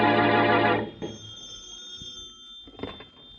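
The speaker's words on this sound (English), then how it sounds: "in the Bromley home, the phone rings." A telephone bell rings in a radio drama set in a home, one loud trilling burst that cuts off, followed by quiet room noise with a couple of faint knocks.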